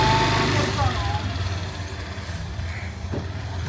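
A scooter engine runs on Koh Yao Noi, Thailand, giving a steady low rumble with a slight rise and fall. It is close and continuous for the whole stretch.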